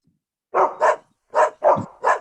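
A dog barks five times in a quick, loud sequence of close, sharp barks with short gaps between them, clearly heard on its own.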